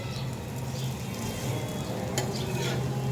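Prawn fritters frying in oil are turned over, a close, soft, steady sizzle with faint scraping and a few small clinks, quiet throughout and with no talk.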